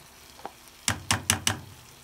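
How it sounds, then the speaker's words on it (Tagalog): A spoonful of margarine goes into a pan for corned beef pastil: a soft tap, then four sharp, evenly spaced metallic knocks of the spoon against the pan, close and fairly loud over a quiet background. "Maglalagay tayo ng isang kutsarita lang din na margarine."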